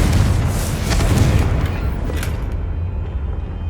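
A Confringo fire spell from Hogwarts Legacy bursts with a loud, sustained boom that rumbles on for several seconds, with crackling bursts on top before it tapers slightly.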